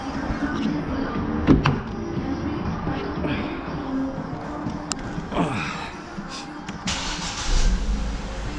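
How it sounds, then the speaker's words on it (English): A Ford Focus with a Zetec engine starts up after a timing belt and clutch replacement: a short crank and clunk, then an engine settling into a steady idle close by, with scattered knocks. "Let's get in and give it a start."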